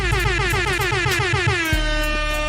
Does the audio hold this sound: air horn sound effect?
yes